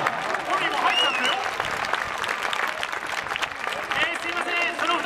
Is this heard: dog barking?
no